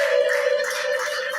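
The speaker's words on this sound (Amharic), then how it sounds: "ለጌታ ክብር አጨብጭቡ።" A church congregation claps together in praise, a dense, continuous patter of many hands held steady over a sustained musical tone.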